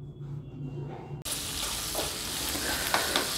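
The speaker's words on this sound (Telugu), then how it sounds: "పోపు వేసాం. పోపులు మొత్తం వేగిన తర్వాత" Mustard seeds and spices for tempering drop into hot oil and burst into a loud, steady sizzle that switches on abruptly and keeps crackling, with stirring scrapes in a pan while wild hog plum rice is being cooked.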